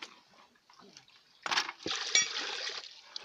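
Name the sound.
water being poured into a basin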